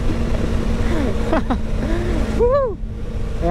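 A Yamaha YZF-R3 motorcycle engine blipped for a rev match, sharp rising and falling revs over a steady riding drone, with a brief quick blip midway and a bigger rev swell toward the end.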